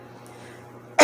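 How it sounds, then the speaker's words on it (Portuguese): During a church Bible reading, a single sharp cough bursts out loudly and suddenly after a stretch of near-silent room hum. "Essa tosse está pegando todo mundo."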